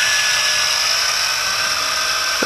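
A Tarantula X6 quadcopter drone hovers and flies with a steady, high-pitched whine of spinning rotors, loud and close throughout, with a brief low blip near the end.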